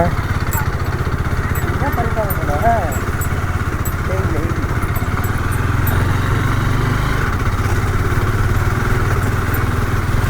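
An off-road vehicle engine on a Valparai trail grinds and chugs steadily at mid pitch with clattering bumps, while people talk loudly over it.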